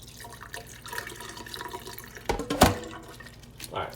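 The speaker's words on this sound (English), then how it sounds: "once you see the water, you pour a little bit out." Water poured out of a cooking pot holding cabbage and mixed vegetables, a short splashing gush into a sink that peaks sharply midway after quieter trickling and handling noises.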